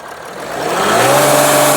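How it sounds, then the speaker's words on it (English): A Mercedes-Benz GL350 engine with a boost leak revs up from idle, its pitch and loudness climbing steadily and then holding high, heard close and alone. "rev up the engine for us so I can figure out where the boost leak is coming from"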